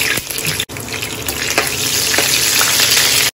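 Mustard seeds, urad dal and dried red chillies fry in hot groundnut oil for coconut rice, a dense, loud close sizzle with a few sharper pops and stirring scrapes, briefly cut off once, with no voice.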